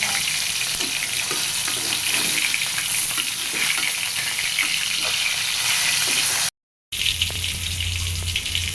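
Tilapia fish frying in hot oil in a pan, giving a steady, dense sizzle that crackles continuously at close range, with a brief dropout near the end before the sizzling resumes.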